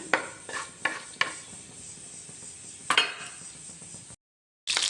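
Fennel seeds crackle and spit in hot oil for a pork roast, with a few sharp pops and metal-on-pan scrapes over a soft sizzle, then a brief cut to silence before the sizzle resumes.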